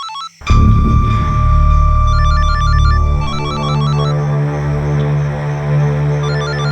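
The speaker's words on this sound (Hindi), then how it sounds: "किसका फोन है?" A phone rings loudly and close by, its electronic ringtone melody repeating continuously.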